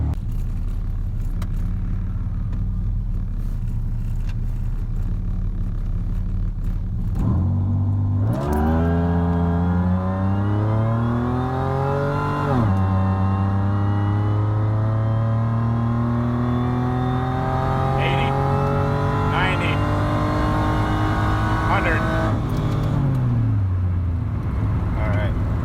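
A supercharged 3800 engine in an XPZ Fiero idles, then accelerates hard through several climbing gear pulls with rising supercharger whine, loud and close from inside the car, with occasional talk.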